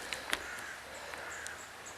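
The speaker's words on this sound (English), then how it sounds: "Crows cawing, birds whistling, and this was my surroundings." Crows caw a few times, short harsh calls at middle distance, over quiet woodland ambience near a river, with faint whistling birdsong in the background.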